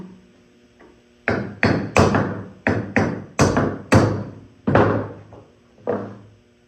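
Repeated hammer blows knock the pin out of an Aeronca oleo strut, about nine sharp metallic thunks in an uneven rhythm, loud and close, with no talking.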